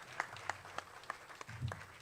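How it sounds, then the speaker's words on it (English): Faint, sparse clapping from a conference audience, with a handful of distinct, evenly spaced claps sounding far off and quiet. "Give yourselves a round of applause."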